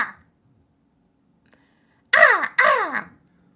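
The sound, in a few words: raven or crow cawing outside the window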